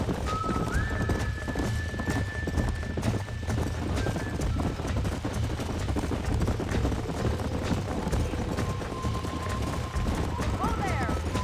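Hooves clip-clop steadily under a rumbling backdrop, with a horse whinnying near the end, in the video game Red Dead Redemption.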